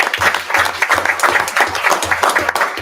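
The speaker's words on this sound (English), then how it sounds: "Can I have a huge round of applause for these individuals here?" Applause for honored staff at a school board meeting, a crowd clapping steadily in a room, loud and continuous with bursts of voices mixed in.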